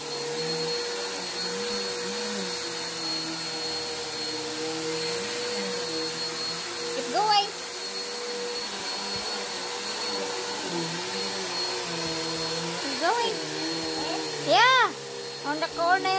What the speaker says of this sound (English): just run the vacuum everywhere